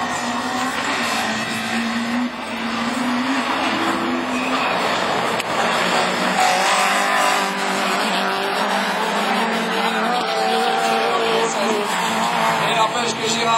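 Rallycross cars of division 4 race on a dirt track at Châteauroux, their engines roaring loudly and continuously with tire noise, while a commentator talks over them throughout.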